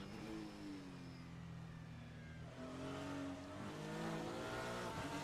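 Onboard a GT3 race car at Fuji Speedway, the engine wails steadily, then drops and climbs through gear changes as it accelerates, loud and close, with no talk over it.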